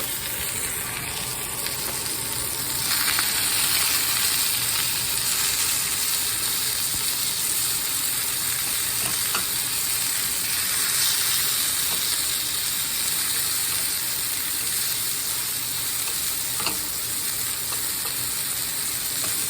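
Sausages frying in a home kitchen pan, a loud continuous sizzle and crackle with occasional utensil clicks, steady and close with no talking.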